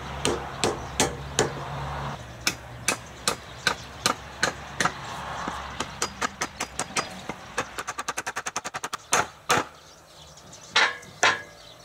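A hammer strikes again and again while an axe handle is fitted into the head. The sharp blows come close and loud, some spaced out, then a fast run of quick taps, then a few heavier hits.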